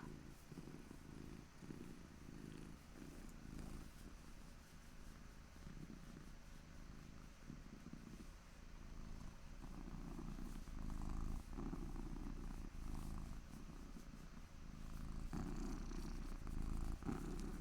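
A cat purrs steadily and close, a low rhythmic rumbling motor that pulses with each breath and runs unbroken, softly recorded with no talking over it.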